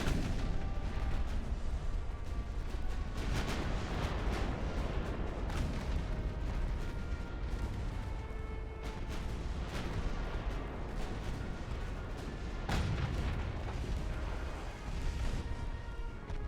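Battleship guns fire repeatedly in the naval combat game Ultimate Admiral: Dreadnoughts, with booming salvos and sharp reports landing irregularly over a constant low battle rumble for the whole stretch.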